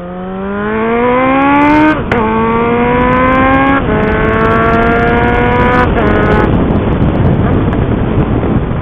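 A motorcycle with its exhaust muffler removed accelerates hard and loud up through several gears, each shift marked by a brief break before the rising roar resumes, then settling into a steady rumble with wind buffeting the microphone.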